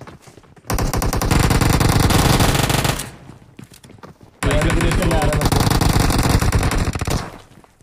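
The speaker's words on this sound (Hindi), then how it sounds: "इनका गन फाइट तो अलग ही लेवल है" Sustained automatic gunfire in the PUBG Mobile video game, two long loud bursts of rapid shots separated by a short pause, up front and dominant.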